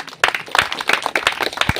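A church congregation claps together, a brisk, dense run of handclaps that starts abruptly and keeps going in an uneven rhythm, loud and close, with no talking over it.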